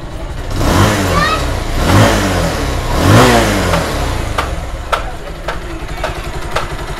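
A rebuilt Bajaj Pulsar 220 motorcycle engine, after scissor gear and timing chain work, revs up three times in quick succession, then settles into a steady idle, loud and close.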